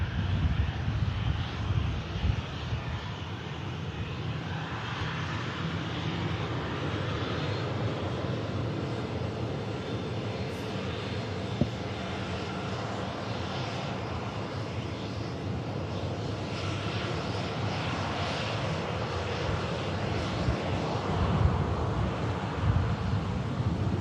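A TUI airliner in evening light, its engines giving a steady, broad roar at moderate distance throughout, with some wind noise.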